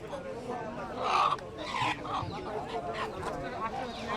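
A large red rooster at a rural village market gives a couple of loud squawking cries, close by, amid a murmur of people talking.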